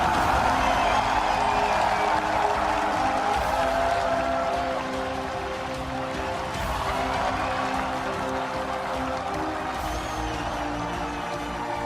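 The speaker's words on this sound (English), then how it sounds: "Standing ovation from the crowd here at Staples Center" A large arena crowd at Staples Center gives a standing ovation at a League of Legends world final between Samsung and SKT T1, a broad, sustained roar of cheering and applause filling the hall at a steady level.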